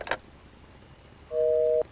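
Telephone dialing in the video game Kona: a short tone burst at the start, then a steady two-tone beep held for about half a second near the end, faint and alone.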